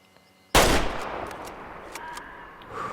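A single loud, close gunshot from a hunting rifle in the video game Way of the Hunter, with a sharp onset and then a long rolling echo that decays over a couple of seconds.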